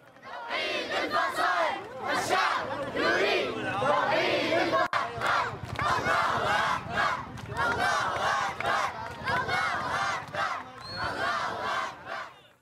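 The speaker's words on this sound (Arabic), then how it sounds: "وقد علت هتافات المتظاهرين مطالبة برحيل النظام" Demonstrators at a rally chant in loud rhythmic unison, a large crowd's voices rising and falling in repeated bursts, close and sustained throughout with no quiet gaps.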